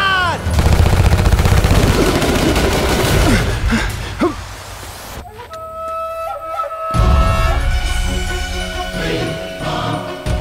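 Gunfire erupts in a film battle scene, a dense volley of shots and bursts that runs loud and continuous, broken briefly by a quieter stretch before the firing resumes, with a shouted voice heard in the mix.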